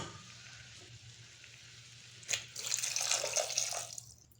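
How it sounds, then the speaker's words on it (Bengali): Water poured into a pot of curry being cooked for mughlai, a brief splash followed by about a second and a half of steady bright pouring and bubbling that fades out, alone without talk. "কষা হয়ে গেছে, এখন আমি এবার জল দিয়ে দেব"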